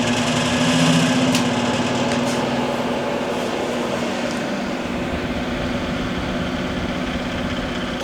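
An inline blower fan runs at low speed with a steady, close mechanical hum and whir that slightly fades after the first second, then holds constant.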